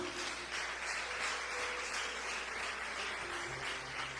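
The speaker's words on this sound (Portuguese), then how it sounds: "Pode aplaudir Jesus?" Worshippers at an Assembleia de Deus church applaud together, a dense, continuous patter of many clapping hands held at fairly steady volume throughout, with faint tonal background sound underneath.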